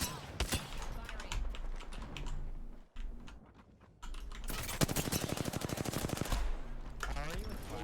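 Rapid automatic gunfire in the battle royale game Apex Legends during a solo ranked match, bursts of loud, dense shots filling most of the moment with a brief pause in the middle, game effects and voice lines mixed in.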